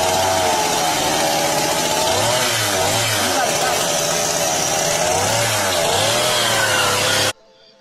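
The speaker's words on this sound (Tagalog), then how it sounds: "So ito yung chainsaw naman to." Chainsaw running loud and close for about seven seconds, its engine revving up and down in repeated surges before it cuts off abruptly.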